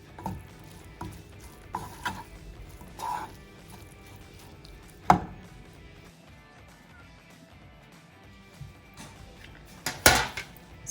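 A spoon scrapes and clanks in a pan while chicken mixture is stirred with coriander leaves off the heat, with sharp metallic knocks at intervals and a louder clatter near the end.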